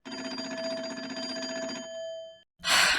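Old coin telephone on a porch in the Nancy Drew video game Secret of the Old Clock, ringing with a steady electric bell for about two seconds before cutting off, followed by a brief burst of noise.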